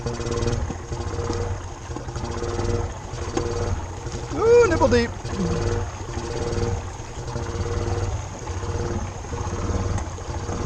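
A Honda Fourtrax 300 ATV engine idles low and steady while partly submerged in deep lake water, a continuous rumble with water sloshing around it; voices talk and exclaim over it.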